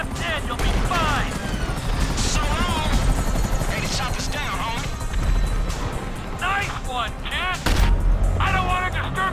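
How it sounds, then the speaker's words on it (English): Helicopters attacking in GTA V, a steady loud rotor drone with crashes and gunfire bursts, overlaid by frequent talk and shouting throughout. "you might want to do something about the choppers before we're blown out of the sky"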